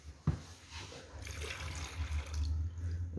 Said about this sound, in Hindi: हाँ, ये वाला पेट फाउंटेन होता है जनाब